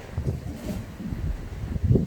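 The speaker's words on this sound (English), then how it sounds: "there's a lot of wind today." Outdoor wind buffets the microphone in steady low rumbling gusts, fairly loud throughout the short stretch, with no talking.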